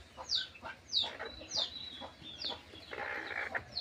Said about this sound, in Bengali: এই যে দেশি মুরগি, এই যে বাচ্চাগুলো